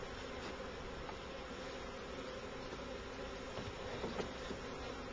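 Honeybees fanning at the entrance of a newly occupied hive produce a faint, continuous buzzing hum with no breaks, heard close but quiet throughout.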